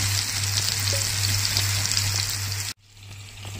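Tilapia fish frying in a pan over a low flame makes a continuous bright hissing sizzle with a low hum beneath, which stops abruptly near the end, leaving a quieter background.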